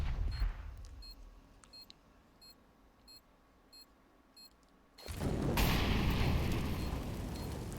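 A planted bomb in the Counter-Strike video game beeps in short evenly spaced chirps that gradually quicken, then a loud explosion booms and rumbles on.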